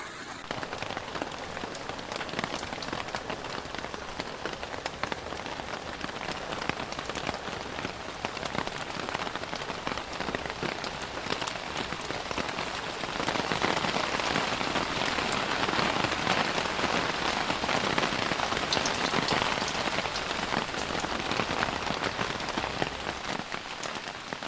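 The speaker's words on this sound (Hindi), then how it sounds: "वैसे बहुत तगड़ी बारिश हुई है और अभी भी हल्की हल्की हो रही है" Heavy rain pours steadily on a forest campsite, a dense, unbroken hiss of drops striking surfaces that swells slightly louder partway through and carries on without pause.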